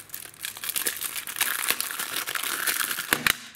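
Plastic packaging around a sealed Raspberry Pi 2 case crinkles and tears as it is opened, a close, busy rustle that builds and ends with a couple of sharp cracks.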